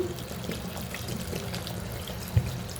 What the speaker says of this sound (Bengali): দিয়ে দিব পানি